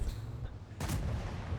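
A single heavy cannon shot rings out from a German super heavy tank in World of Tanks. It is one sharp, loud blast over steady low game rumble.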